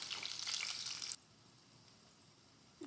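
Soybean chunks coated in gram flour fry in hot oil with a bright, hissing sizzle that cuts off abruptly after about a second, leaving near silence before a short return at the end.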